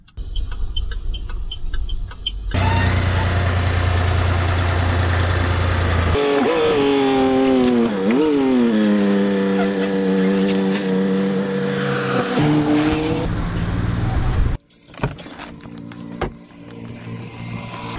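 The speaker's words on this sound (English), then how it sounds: "So we got the car in our driveway." Land Rover Discovery 4 pulling into a residential driveway, its steady engine drone loud and close, rising and falling as it maneuvers, with a brief pause near the end.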